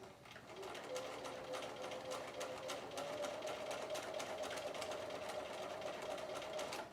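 A sewing machine runs continuously and close by, stitching a sleeve into fabric with a fast, even mechanical whir and a rapid needle patter.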